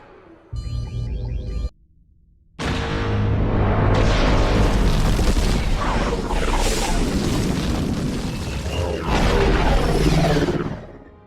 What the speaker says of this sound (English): a spectacular flight sequence with a booming sound design outside of Geonosis